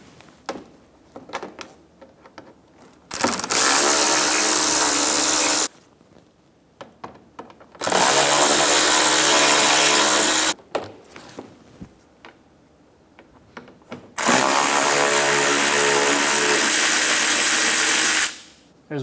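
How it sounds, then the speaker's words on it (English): Power driver whirring in three long loud bursts, each a few seconds, as T20 screws come out of the inner fender liner on a 2012-2020 Chevrolet Sonic 1.8L, with quiet handling clicks between. "Remove the 3 T20 screws in the inner fender liner."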